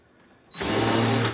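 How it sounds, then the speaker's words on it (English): A power drill fitted with a tapered countersink bit bores into cabinet wood, giving one loud, close, steady whirring burst of just under a second that starts abruptly after quiet. "It's called a countersink bit. It's tapered. It's got like little knives on it, just like a drill bit."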